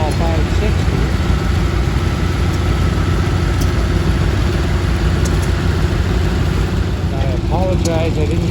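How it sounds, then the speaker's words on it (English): A Farmall 560 antique tractor drives past in a parade of old farm equipment, its engine giving a steady loud chugging drone. A few brief high chirps cut through, and voices talk over it throughout. "coming up right behind him on a Farmall 560"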